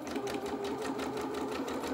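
A sewing machine stitches a zigzag seam on a small doll's shirt, its motor whirring in a fast, even rhythmic chatter, close and steady throughout with no talking.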